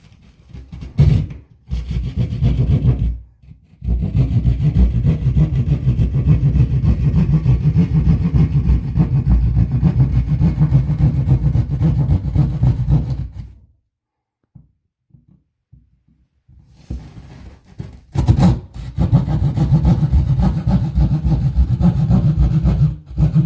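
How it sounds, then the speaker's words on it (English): A hand sheetrock saw cuts an outlet hole through drywall, a loud, steady rasping that runs for long stretches, stops for a few seconds of near silence, then resumes close to the microphone. "Just get a sheetrock saw, cut that out."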